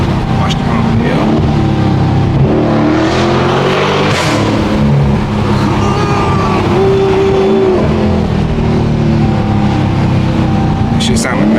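Loud, close exhaust drone from a 2023 Chrysler 300C with the muffler deleted, humming steadily through a drive with some swelling revs, as voices chatter over it from inside the cabin.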